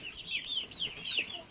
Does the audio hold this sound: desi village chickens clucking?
yes